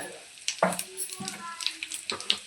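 Cumin seeds tempering in hot oil crackle and sputter in short irregular bursts, close by, with a few faint clinks and some murmured voice-like sounds mixed in.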